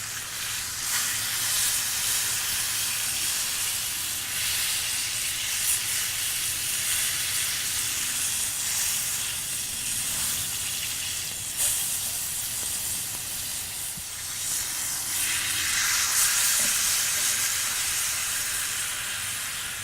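A two-kilogram tomahawk ribeye steak sears in a hot pan, giving a steady, loud broadband hiss and sizzle that holds evenly throughout with no talking.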